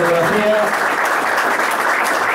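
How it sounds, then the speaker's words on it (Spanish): An audience at a 75th anniversary ceremony of a bochas (bocce) association applauds in a continuous, even wash of clapping, with a voice speaking briefly at the start. "El aplauso"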